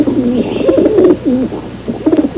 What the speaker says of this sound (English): This is a racing pigeon.